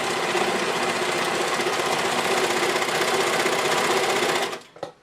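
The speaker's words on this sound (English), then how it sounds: "We're going to get to the end of the sewing here." An overlocker serger stitching a fabric seam runs fast and loud with a continuous dense mechanical buzz, then slows and stops near the end.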